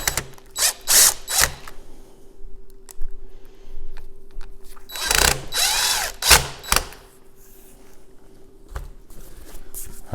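Small power drill running in short bursts as it drives little screws into a window sash tilt pin, with a steady faint hum and clicking between the loud whirs, close by.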